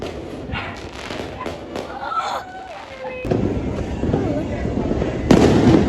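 New Year's fireworks pop and thud in the distance, several scattered bursts with a louder burst near the end, under people talking.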